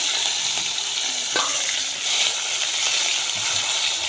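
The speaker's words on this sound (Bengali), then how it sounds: "কাঁচা টমেটো আর জিরেটা দিয়ে দিলাম, এটা এখন একটু ভাজা হোক।" Raw tomato and cumin seeds frying in oil in a pan for a tilapia fish curry, giving a steady close sizzle with a brief scrape of stirring partway through and no talk.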